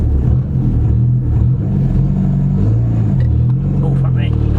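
A modified Skoda Fabia vRS tuned past 300 BHP pulls away from a standstill in first gear with traction control off, its engine rumbling loud and close under steady talk from people inside.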